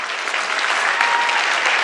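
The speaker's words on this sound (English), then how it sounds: "Let's give them one more round of applause." A conference audience applauds the debate jury at a sustainability business event, a dense, sustained wash of many hands clapping, loud and even throughout with no voices on top.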